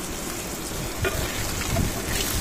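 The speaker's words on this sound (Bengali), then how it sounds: "এখন আমি জালি কুমড়গুলো একে একে ভেজে নেব" Ash gourd pieces fry in hot oil in a pan after hilsa fish, a dense, loud, continuous sizzle up close with occasional light clatter of the pieces being added.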